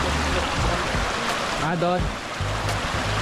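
Water flows steadily at the Bongabon spring, a continuous broadband rush with people talking nearby and a brief voice over it.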